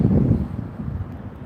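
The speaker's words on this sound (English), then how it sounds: "it is windy" Wind blowing outdoors on a breezy, overcast, chilly day with light sprinkles, a steady low rushing buffet across the microphone that eases slightly midway and continues without speech.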